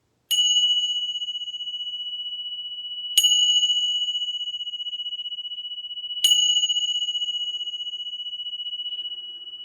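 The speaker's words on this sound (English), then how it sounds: "I'm going to chime some bells just because I feel like it." Chime bells are struck three times at even intervals, each a clear, high, sustained ring that slowly fades before the next strike, in an otherwise quiet space.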